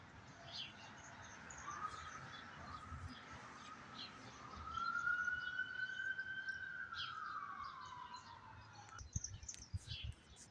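A distant siren wails in a long rising and falling sweep from an elevated spot among old ruined infrastructure, faint over low background noise with scattered bird chirps throughout.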